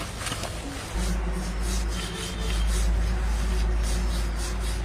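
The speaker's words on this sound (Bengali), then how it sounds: "সে ঘষে পরিষ্কার করে দিলাম, কিরকম কালার ছিল আর কেমন কালার হয়েছে।" Steady rough scrubbing rubs moss off a surface being cleaned, a continuous close abrasive rasp that grows slightly louder partway through, with no voices.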